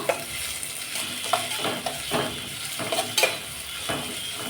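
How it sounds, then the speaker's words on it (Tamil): Sliced onions sauté in a pan for a spinach stir-fry, giving a soft steady sizzle broken by intermittent scraping stirs close by. "பெரிய வெங்காயம் சேர்த்துக்கிறேன் வெங்காயம் நல்லா வதங்கட்டும்"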